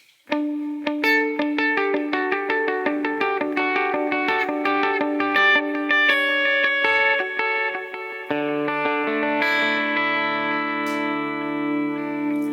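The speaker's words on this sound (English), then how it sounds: "I'm going to set this up as a .8 delay because why not?" Clean electric guitar notes through a Line 6 HX Stomp are picked in a quick run, each repeated by echoing delay repeats that blur into a shimmering wash, then a sustained chord rings.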